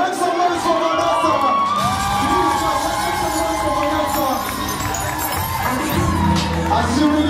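A large crowd at a Red Bull Dance Your Style dance battle final in Kenya cheers and shouts continuously, with whoops and high children's voices rising over a loud, steady roar.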